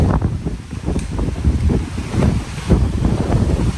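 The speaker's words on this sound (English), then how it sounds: "But it's still windy." Steady gusting wind from Hurricane Milton buffets the microphone with a rough low rumble throughout, no voices present.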